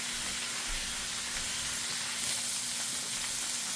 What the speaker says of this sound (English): Just hold it this way so it could sear on some sides.